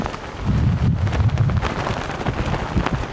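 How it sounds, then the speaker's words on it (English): Strong wind blowing across a beach during a fishing session, a loud, steady rushing roar buffeting the microphone with low rumbling gusts throughout, no voices. "I hope that wind dies off."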